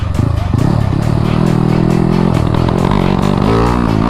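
A Honda Wave100 motorcycle engine revs hard with the throttle wide open, a loud, continuous, rising and falling roar held close throughout.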